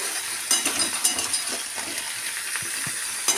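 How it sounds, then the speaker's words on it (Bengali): Chunks of bottle gourd fry with potatoes in a pan: a steady close sizzle and hiss with light clinks of stirring, no voices. "এটাকে আলুর সাথে ভালো করে ভেজে নিতে হবে।"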